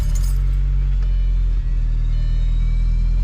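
An Audi car engine running with a steady, loud low rumble that holds evenly from start to finish, close by and with no voices over it.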